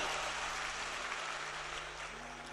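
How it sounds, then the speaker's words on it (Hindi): An audience at a religious discourse in a large pandal applauds steadily, a dense wash of clapping that fades slightly toward the end, with no voices over it. "एक बार जोरदार ताली बजा"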